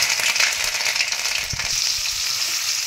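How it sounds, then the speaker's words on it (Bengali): Cauliflower florets fry lightly in hot white cooking oil, a steady bright sizzle with occasional soft stirring clunks, close and even throughout. "আমি এখানে কপিগুলো হালকা ভাজবো, লাল করব না।"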